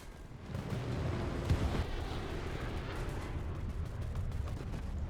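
Explosion in a video game, a deep rumbling blast with a sharper burst near the start, then a sustained low roar at modest level.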